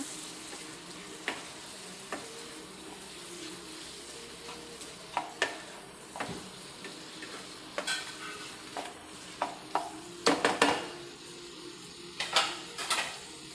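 Pepper chicken made with country chicken, stirred and fried in a pan: a low, steady sizzle broken by repeated scraping stirs of a utensil, which grow louder and busier toward the end, with no talking.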